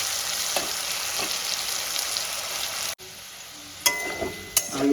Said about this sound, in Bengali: এবার আলুগুলোকে আমি লাল লাল করে ভেজে তুলে নেব